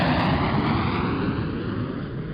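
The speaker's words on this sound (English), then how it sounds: "we show you the engine start process as well as a takeoff with an SF50 Vision Jet made by Cirrus Aircraft" A Cirrus SF50 Vision Jet's engine roars in a steady, loud, broadband rush during takeoff, continuous throughout with no voices.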